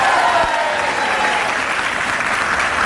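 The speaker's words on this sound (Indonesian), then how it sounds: "Tepuk tangan sekali lagi untuk." Dense, continuous audience applause at a live talk show, close and loud, a full room clapping at an even level with a faint murmur of crowd underneath.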